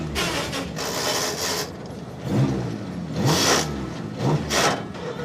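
Car engine on a motoring show revs in several bursts, rising and dropping as gears change, with brief mechanical scrapes between the surges; fairly loud and close, no talking.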